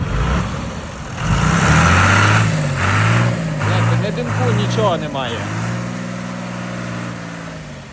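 A 1990 John Deere 3350 tractor's diesel engine chugs and revs nearby while someone speaks over it, the engine settling to a steady running hum.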